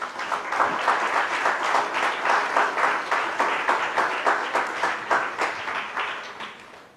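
Congregation at a church service breaks into sustained applause, a dense crowd of hands clapping steadily for several seconds before gradually tapering off, with no one speaking over it.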